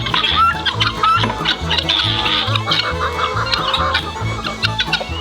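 Chickens clucking repeatedly at close range in a backyard tomato garden, a busy, irregular chorus of clucks with a voice briefly heard amid the flock.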